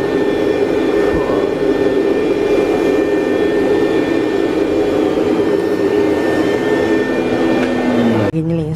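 A Rainbow vacuum cleaner runs at full suction with a loud, steady whine and airy roar that continues almost unbroken, then cuts abruptly near the end.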